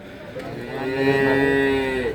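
At a cattle market in Jatirogo, a single cow lets out a loud, close moo that lasts about two seconds, clear above faint background noise.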